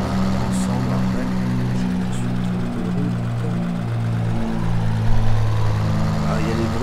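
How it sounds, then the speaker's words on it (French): Droning aircraft engines hum steadily in the Farming Simulator 2013 soundscape, with layered low tones rising and falling and a few faint clicks on top. "y a les bruitages aussi des avions qui font beaucoup de bruit"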